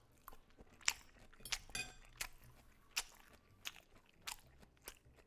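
Close-up crunchy bites and chewing of raw kale, a series of sharp crisp crunches about once a second over a quiet background.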